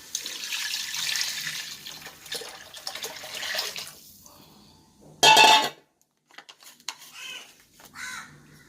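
A tamarind, shallot, kuzhambu chili powder and coriander powder mixture is poured into a trevally fish head curry, giving a loud splashing burst near the middle amid clinking pots and utensils, with softer kitchen clatter before and after.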